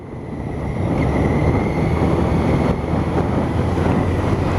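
Riding a 1983 Honda CB650 Nighthawk motorcycle at a relaxed pace, the sound dominated by loud, steady wind rush over the microphone with the engine buried underneath.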